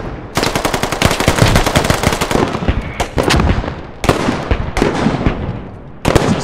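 Sustained automatic gunfire in a 40-versus-40 squad shooter game set among British forces, loud, dense bursts broken by short pauses and repeated volleys of rapid rounds.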